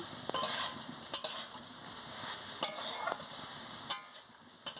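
Telakucha leaf curry being stirred and sautéed in a pan, with soft sizzling under a few sharp scraping taps of a spatula, close and fairly quiet.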